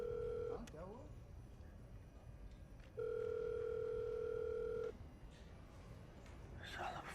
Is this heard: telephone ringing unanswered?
yes